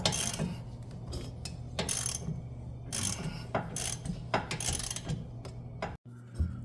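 A wrench ratchets in rapid clicking bursts while loosening a long Loctite-coated bolt on the wheel hub of a 2018-2021 Chevrolet Equinox, loud and close with short pauses between strokes.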